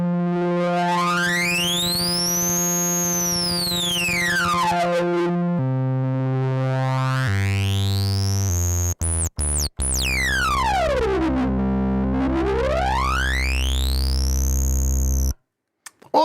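303-style acid bassline from the Mi-03 Bassline iPad app: buzzy synth bass notes with a resonant filter sweeping up and down in wide squelchy arcs, a few choppy stutters midway, loud and alone before it cuts off abruptly.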